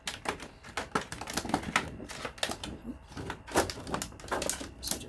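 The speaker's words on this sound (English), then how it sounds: "this moss pole has 4 different sizes. So first thing you do is just fold the sides." Plastic moss pole sides being folded over by hand, a rapid run of crisp clicks, creaks and crackles in an uneven rhythm, close and moderately loud.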